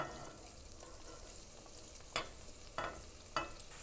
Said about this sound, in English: We saute this a little bit